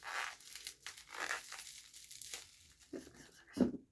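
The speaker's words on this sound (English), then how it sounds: "So it came just wrapping and this little bubble wrap." Crinkling and crackling of bubble wrap packaging being handled and pulled apart, close up, with a louder crunch near the end.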